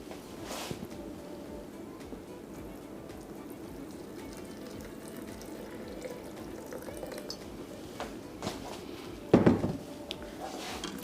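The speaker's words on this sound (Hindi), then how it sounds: "और इसमें थोड़ा सा पानी हम ऐड करेंगे।" Water poured into a falsa sharbat mixture seasoned with black salt and black pepper, a soft continuous trickle with a brief louder splash near the end.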